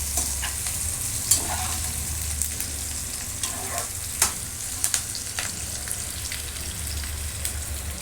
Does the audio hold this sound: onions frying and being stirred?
yes